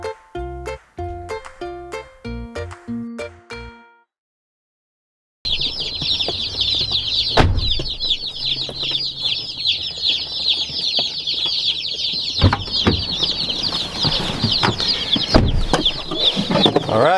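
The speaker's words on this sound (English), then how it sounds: "So we got all our chicks." A crowd of baby chicks picked up from the post office peeping continuously, dense high chirping close by after a few seconds of musical notes and a brief silence, with some thumps of handling.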